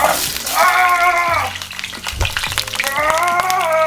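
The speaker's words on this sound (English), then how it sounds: "we take our lumpia and throw it in" Pork lumpia drop into hot oil in a pan and fry with loud close sizzling and crackling that rises and falls, with a voice talking over it.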